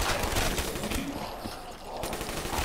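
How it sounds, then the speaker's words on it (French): Dense battle noise from Call of Duty Black Ops 3 on the Ascension map, with continuous rapid gunfire and explosion blasts blending into a loud, steady roar of combat. "Il n'y a pas qu'une explosion"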